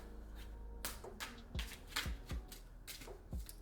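A deck of cards being shuffled by hand, quiet and close, with a series of soft riffling slaps and brushes over a few seconds and no talk.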